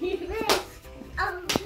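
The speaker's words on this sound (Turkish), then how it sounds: "Alkışlı oğlum." Two sharp hand claps during a morning exercise routine at home, spaced about a second apart, close and loud, with a person's voice talking between and over them.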